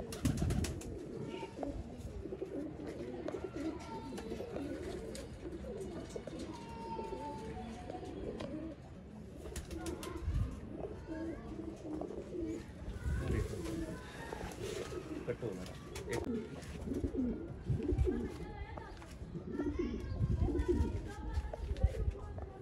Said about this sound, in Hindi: प्योर और ब्रांड हालत के चपड़े कबूतर आपकी स्क्रीन पे